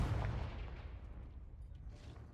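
A Confringo blasting spell explodes in Hogwarts Legacy, a heavy low boom at the start that rolls off and fades into a rumbling tail, fairly quiet overall.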